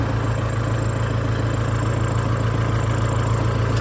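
Kubota L4708 tractor diesel engine idling close by, a steady low rumble with constant vibration and no breaks for the whole stretch.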